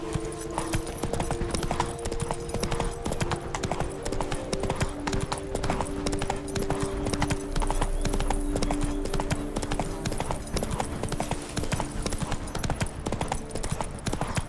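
Roach, a horse in the video game The Witcher 3, gallops with a steady, continuous clip-clop of hooves under a layer of game music, and a short whinny sounds near the start.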